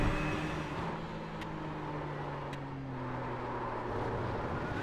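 Ford GT race car engine in iRacing, a steady sustained drone with slowly shifting pitch as it holds revs, plus a couple of faint sharp clicks, with no talk.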